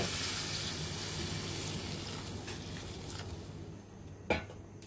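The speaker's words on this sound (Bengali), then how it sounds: "এখন আমরা পরিমাণ মতো ঝোল দিয়ে দিব।" Broth poured into a simmering cucumber and egg curry gives a steady broad sizzle and watery rush, fading slightly toward the end, with a brief splash or knock near the close.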